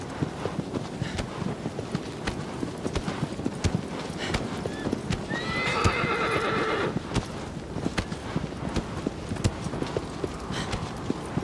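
Horse hooves clip-clop steadily in Shadow of the Colossus as the mount climbs and turns, a quick rhythmic patter close by, with a whinny rising briefly mid-clip over a light wind hiss.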